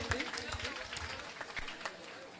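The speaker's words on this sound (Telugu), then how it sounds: "చప్పట్లతో వారికి అభినందనలు తెలియచేయండి" Audience clapping at a cathedral ceremony for a bishop's installation, a dense patter of many hands that stays fairly even through the short stretch, with no voices standing out.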